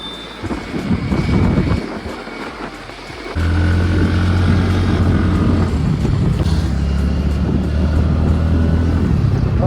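TVS Ntorq XT, Hero Destini and Hero Maestro scooters drag racing on a road, engines droning loudly and steadily close by with a jump in revs partway through, wind buffeting the microphone.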